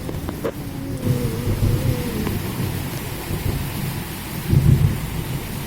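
Steady rain falls during wet weather, with low, rolling thunder rumbling underneath, moderately loud and constant without any voices.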